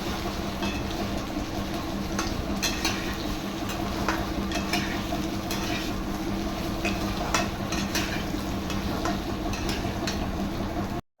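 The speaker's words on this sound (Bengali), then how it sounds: "সিদ্ধ আলুটা জলের সাথে, সেটাই এখন এই যে ভাজা হচ্ছে" Boiled potatoes fry in a pan with a steady soft sizzle, punctuated by occasional clicks and scrapes of stirring, close and continuous without speech.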